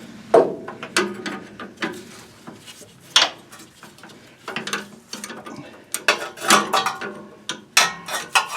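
On a Chevy C10, a wrench works at a brake line fitting, producing scattered metallic clicks, taps and scrapes at close range, irregular and bursty, with no one talking.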